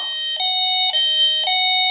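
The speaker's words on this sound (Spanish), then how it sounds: "poner el característico tono de Derkin que es o una arrancada más lenta o una arrancada más rápida" Delkim Txi-D fishing bite alarm and its Rx-D receiver sounding the characteristic bite tone: three bright, steady electronic beeps spaced evenly about half a second apart, loud and close with no voices.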